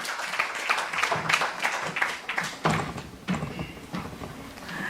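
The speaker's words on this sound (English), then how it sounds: "could you please give a kind round of applause to Dr. Cecilia Mushiniga from the University" Scattered clapping from a modest audience, uneven and somewhat distant, with individual claps audible rather than a dense roar.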